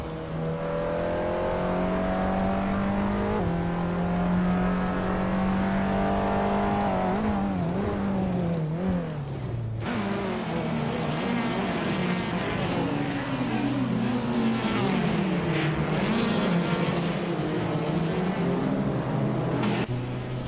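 Sustained engine drone of race cars in a video game race, a 2014 Suzuki Swift among them, steady and loud with rising and falling revs and shifting pitch throughout.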